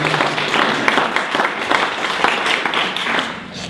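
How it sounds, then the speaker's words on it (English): An audience at a local meetup applauds after a talk on websites, loud close clapping from a modest room with individual claps distinct, holding steady and easing slightly at the end. "let's give Megan a big round of applause"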